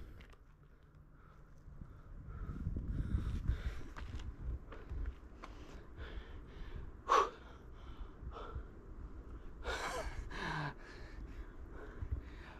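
Heavy panting and gasping breaths from a hiker climbing a rocky, overgrown mountain trail near Skagway, Alaska, close and steady, with scattered footsteps, scuffs and one sharp snort-like burst partway through.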